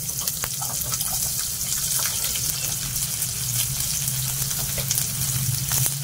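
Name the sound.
frying onion in oil in a pan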